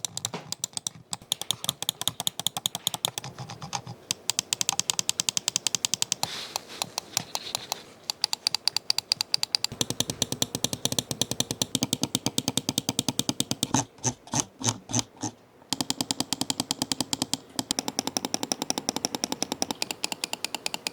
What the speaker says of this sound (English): The X3 is equipped with Kailh Black Mambas and the M600 has the Huano blue shell pink dots